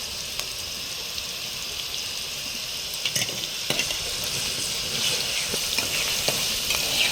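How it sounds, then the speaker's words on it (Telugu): Ginger frying in a pan with turmeric and salt for a chicken curry, giving a steady close sizzle with occasional stirring clicks and scrapes throughout, no talking. "ఇప్పుడు కొద్దిసేపు మనకు అల్లం పచ్చివాసన పోయేటట్టు కొద్దిసేపు మాత్రం దీన్ని వేపుతాను"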